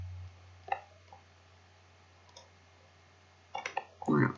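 A computer mouse gives a few crisp, close clicks, scattered one at a time across a quiet room, with a short burst of activity near the end.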